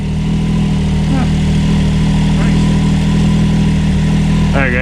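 A Can-Am Maverick X3 XRS side-by-side idles steadily and close by for the whole stretch, a low even engine drone with small shifts in pitch, while people talk faintly over it.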